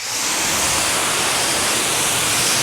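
A pressure washer sprays steadily, rinsing shampoo foam off a car in a continuous, loud broadband hiss with no breaks and no talking.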